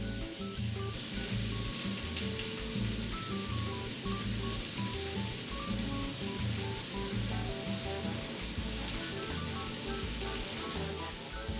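Tofu fries in olive oil in a pan, giving a steady close sizzle over music, even and continuous with no talking.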